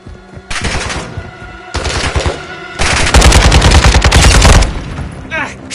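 Loud sustained automatic gunfire from a video game firefight, several long rapid bursts of machine-gun fire separated by short pauses, the final burst the heaviest and longest, close and dominant.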